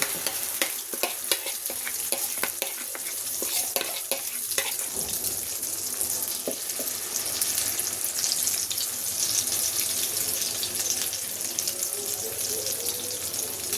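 An egg pizza batter poured into hot oil in a pan, giving a steady close sizzle with scattered crackles and stirring clatter, the frying hiss growing broader and louder partway through.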